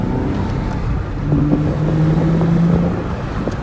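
A 2008 Porsche Cayman S engine turns over steadily in second gear just under 2,000 RPM through a right turn, a low, close, continuous cabin drone that swells slightly in the middle, with no talking.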